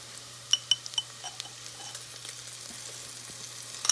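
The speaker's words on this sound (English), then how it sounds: "add minced garlic" Minced garlic and onions sizzle faintly in a pan. A few sharp spoon clinks come early, and a low steady hiss runs beneath them.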